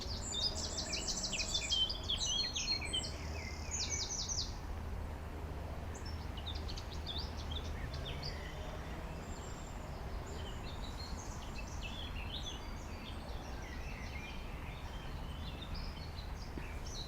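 Birds sing and chirp in Stanley Park, a cluster of bright, quick calls early on and then scattered fainter twitters over a steady outdoor hum.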